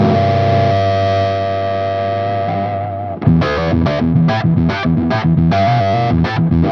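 A heavily fuzzed electric guitar through a Jackson Audio Fuzz pedal, first one thick sustained chord and then a loud, tight, chugging rhythmic riff with sharp stops, saturated and up close.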